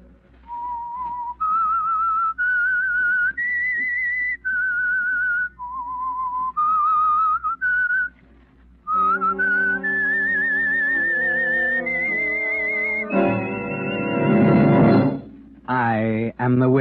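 A clear whistled melody of distinct held notes, stepping up and down in a slow tune, later joined by a fuller musical backing, the theme of the radio mystery program The Whistler.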